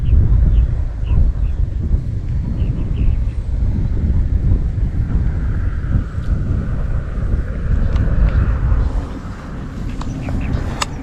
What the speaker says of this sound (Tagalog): Grabe hangin eh